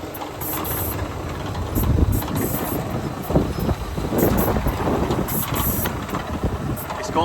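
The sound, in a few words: tractor running Spapperi interplant weeding machine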